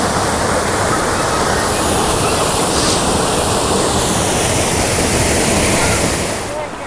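Surplus water pours down from above beside a stream-driven flour mill in Bumburet, Kalash valley, a loud, steady, unbroken roar of falling water close by.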